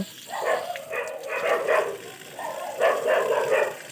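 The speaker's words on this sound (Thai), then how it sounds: "โอ้เสียงหมาเห่าดังสนั่นเลยค่ะ" Dogs bark repeatedly at a frog farm, a run of loud, rapid yaps in two bursts with a short pause between, heard at moderate distance.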